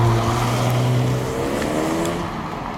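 A 2013 Ford Focus ST with its 2-liter EcoBoost direct-injection turbocharged engine pulls steadily from inside the cabin, a loud continuous drone with a low engine hum that shifts gradually in pitch as the car drives.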